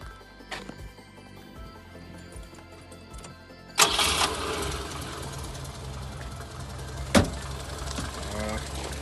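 A Renault 4L engine with a rebuilt radiator and gearbox cranks and catches, then settles into a loud, steady running rumble close by. A sharp clunk comes near the end, and a voice speaks faintly early on.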